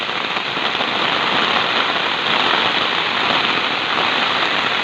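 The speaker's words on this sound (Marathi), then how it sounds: "इथे पाऊस पडतोय खूप." Heavy monsoon rain pours steadily during Ganpati festival time in Kankavli, a dense, loud hiss of drops on surfaces filling the whole stretch without pause.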